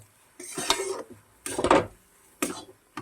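Semolina dough stirred with water in a hot pan, heard as three separate bursts of scraping and knocking of a utensil against cookware, fairly close, with short pauses between them and no talk.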